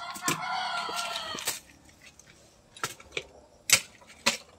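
Chickens in a backyard being bathed: a rooster's loud drawn-out crow opens, followed by scattered clucks and sharp clatters, fairly close, with no talking.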